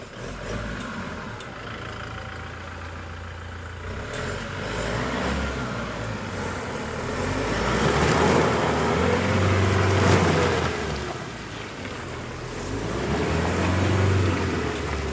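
A Toyota Revo pickup truck creeps along a rough dirt track, its engine rising and falling in a low drone as it slowly gathers revs, heard close with some rumbling from the ground.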